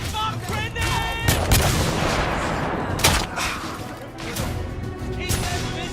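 A grenade goes off in the video game The Order: 1886 amid a heavy firefight, with loud cracks and blasts near the start and middle over constant battle noise, and voices shouting through it.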